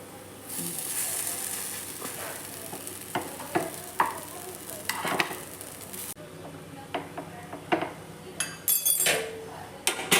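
Moong dal appe sizzling in an appe pan as they are flipped, a steady fry with frequent close clicks and scrapes of a utensil against the metal pan.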